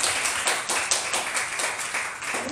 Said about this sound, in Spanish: Y un fuerte aplauso a Alfredo Ramírez, Alfredo Ferreira.